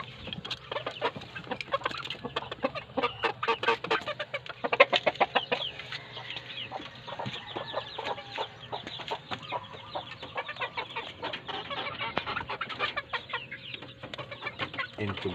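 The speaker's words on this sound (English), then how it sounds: "around 3 months old chickens." Several three-month-old chickens cluck and chatter steadily on a rooftop garden over a quiet background, with one louder burst partway through.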